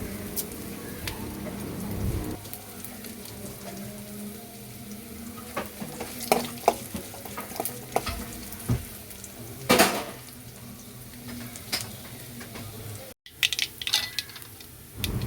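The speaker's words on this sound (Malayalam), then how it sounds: "ചുവന്നുള്ളി ഒന്ന് മൂത്ത് വരുമ്പോഴത്തേക്കും അതിലേക്ക് കടുക് ഇട്ട് കൊടുക്കാവേ" Oil sizzles and crackles steadily in a pan with mustard seeds and shallots, with scattered pops, clinks of a utensil against metal, and occasional stirring, fairly quiet and close.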